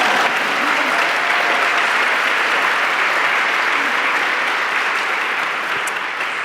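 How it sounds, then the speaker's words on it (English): Sustained audience applause at a fiction prize ceremony, a dense, steady wash of many hands clapping throughout, fairly loud and even with no voices on top. "Now you can clap."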